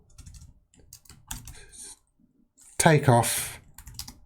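Fast typing on a computer keyboard, a quick clatter of light key clicks in short runs near the mic, with someone speaking briefly over part of it.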